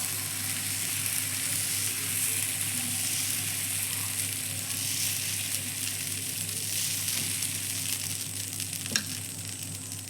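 Dosa fries on a pan with a constant bright sizzle and a low hum underneath, and a single sharp clink of a utensil near the end.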